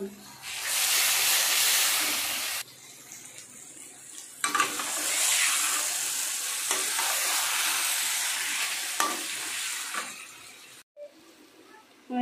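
Chicken masala with salt and turmeric fries in oil in a pan while it is stirred, giving loud bursts of hissing, steamy sizzle that swell and ease off, then drop away sharply near the end.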